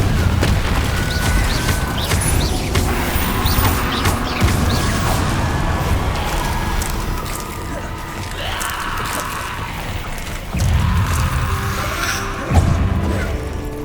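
Explosive blasts from the Confringo fire spell in Hogwarts Legacy: loud booms and crashing impacts that repeat through the stretch, with a sharp hit near the end and shouts mixed in.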